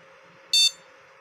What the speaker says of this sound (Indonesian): bagaimana respon dari speaker buzzer ketika kita menghidupkan